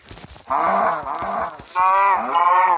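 A cow in a Minecraft-like video game moos twice, loud and close, with soft clicks and faint background sounds between the calls.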